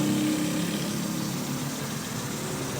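A car engine idles smoothly after a new battery and starter, a steady low rumbling hum held close and even for a few seconds with no voices.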